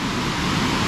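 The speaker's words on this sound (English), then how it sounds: "That is a huge waterfall." Burgess Falls, a large waterfall in Tennessee, roars as a steady, dense broadband rush that stays loud and continuous throughout, with no voices over it.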